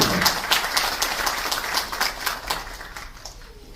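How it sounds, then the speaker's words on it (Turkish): Steady applause from a crowd at a literary short story award night, dense and even, fading slightly toward the end. "alkışlarınızla yazarımızı davet ediyorum"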